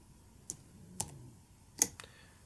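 A computer keyboard shortcut is entered at a music production setup, heard as three or four quiet, separate key clicks spaced about half a second apart in a hushed room.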